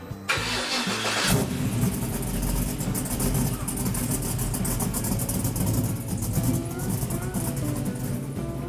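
A restored 1967 Camaro cranks briefly and fires up, its engine settling into a loud, rough, lopey idle with blips of revving, close and continuous throughout.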